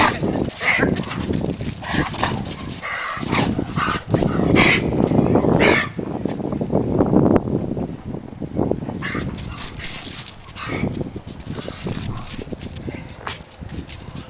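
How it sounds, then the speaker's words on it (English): A dog barks and growls repeatedly amid scuffling and movement, with people talking intermittently in the background. "Dog reactivity simply means that a dog barks, growls, lunges, or snaps at other dogs"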